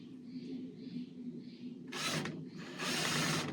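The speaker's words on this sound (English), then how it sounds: "Decided to pre-drill because I didn't want to crack these 2x2s." A power drill bores pilot holes into wooden 2x2 lumber for a truck camper bed base, two loud bursts of drilling rising over a quiet background hum, the second longer than the first.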